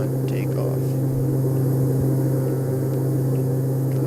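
Simulated Carenado Grand Caravan engine during a steep climb in FSX, a steady, unbroken drone with a constant low hum that holds level for the full four seconds.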